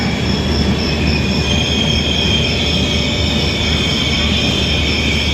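The Shalimar–Puri Superfast Express 12895 runs near Cuttack junction with a loud, steady rumble close by and high wheel squeal above it, without pause.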